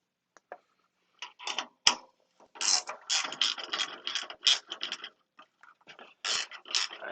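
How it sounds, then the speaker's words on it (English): A gear wrench ratchets in quick bursts while a nut is backed off an inducer fan on a Burnham PV205/PV206 boiler, the clicking close and crisp with short pauses between runs. "I love these gear wrenches until they don't want to work right"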